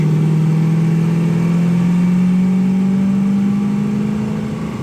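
A 1974 Pontiac Firebird Formula engine drones steadily from inside the cabin while driving, a loud, even mid-pitched hum that rises slightly in pitch as the car picks up speed, then eases off at the end.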